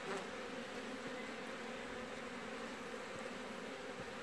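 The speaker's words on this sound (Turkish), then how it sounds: "Hemen uçan kalkıp gidenler eski arı zaten" Honeybees drone in a steady, dense buzz around a four-frame support hive as old bees take off and fly away, continuous and moderately loud with no voices.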